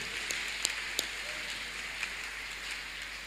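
Many hands clap together in a church during a Tuesday miracle service, a steady dense patter of applause at moderate level, with a few sharper individual claps standing out near the start.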